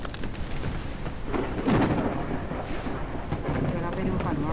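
Steady rain hisses while low thunder rumbles and rolls through, loud and close, with faint voices beneath, in the video game No One Survived.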